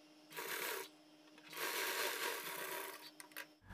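A sewing machine stitches around a dress neckline, a faint, close whirring run in two short bursts with a brief pause between them.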